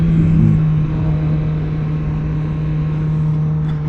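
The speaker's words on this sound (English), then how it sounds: "I'm rev matching. I'm not even using the clutch." A Suzuki GSX-R 600 sport motorcycle ridden on the road, its engine giving a close, steady droning hum with slight rises and dips in level under constant road noise, with no talking.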